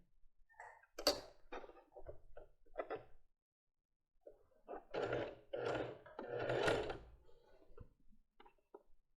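A sewing machine stitches along the edge of a lace bra in uneven mechanical bursts of running needle, with short pauses and a longer gap midway before a steadier stretch of stitching.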